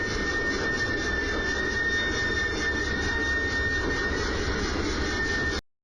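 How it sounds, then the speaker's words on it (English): A steady, rough engine drone with a rhythmic chugging churn, close and loud, running continuously before cutting off abruptly at the end. "It's making a kind of very old kind of train sound."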